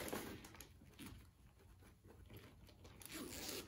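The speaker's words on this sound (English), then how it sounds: "It is a functional zipper." A zipper on a silky referee costume shirt with a ribbed collar is worked by hand at close range, giving soft scraping and rustling that rises near the start and again toward the end.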